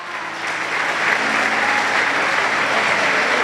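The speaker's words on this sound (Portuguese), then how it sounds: "dá um aplauso a Jesus e fique de pé comigo" A church congregation applauds steadily, a dense sustained wash of clapping that swells in the first half second and holds loud and even to the end, with no voices standing out.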